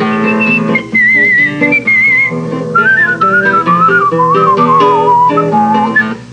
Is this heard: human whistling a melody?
yes